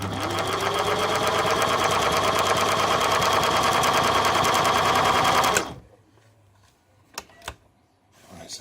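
A Singer Model 527 sewing machine runs by foot pedal, stitching in a steady, loud mechanical chatter for about five and a half seconds, then stops abruptly, leaving near-silence broken by a couple of faint clicks.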